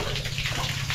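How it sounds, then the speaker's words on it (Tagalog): Water gushes from a broken toilet in a home bathroom, a loud continuous rushing spray with no talk over it. "Sagawak ang tubig."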